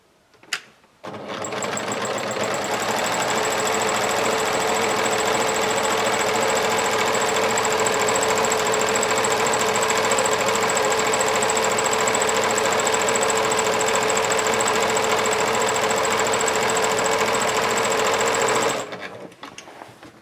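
A sewing machine top stitching a large fabric market tote bag runs loud and steady for about eighteen seconds, with a constant fast mechanical hum and whir, then stops, with a click just before it starts.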